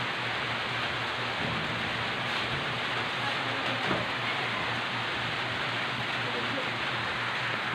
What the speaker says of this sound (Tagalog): Tignan nyo guys, umuulan.